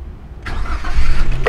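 A 2023 Daihatsu Luxio 1.5 manual-transmission MPV starts with a key in hot weather: a short crank, then the mid-pitched engine catches and settles into a loud, close idle.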